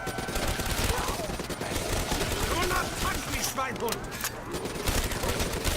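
Rapid ICR rifle fire in Call of Duty Zombie Chronicles on Shi No Numa, a dense continuous burst of loud game gunshots layered with other game effects throughout.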